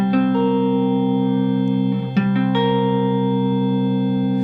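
A sustained electric guitar C dominant 7 chord in second inversion rings out with distortion, sounding strong and steady, briefly interrupted by a string squeak before it continues.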